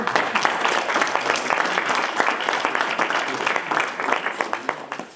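An audience applauds the jury members at the opening debate of a Lille debating cup, with many hands clapping in a steady, close patter and individual claps standing out near the end.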